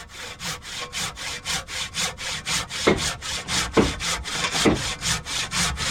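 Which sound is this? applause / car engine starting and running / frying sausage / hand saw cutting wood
hand saw cutting wood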